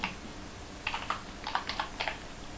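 Keys tap on a computer keyboard in a quick burst of about a dozen light clicks, close and clear against a quiet room.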